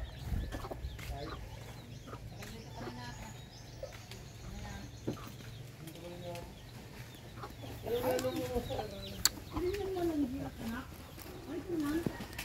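Chickens cluck and call over a steady outdoor background, with people talking nearby and a few louder clucks toward the end.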